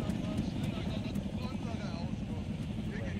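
A helicopter in the video game Arma 3 keeps up a continuous low, throbbing rotor drone, steady and fairly loud, with faint voice-like traces over it.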